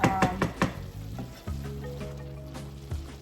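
Country style ribs with cabbage cook in a pot, opening with a few sharp utensil clinks and then settling into a steady sizzle and bubble, fairly close with no talking.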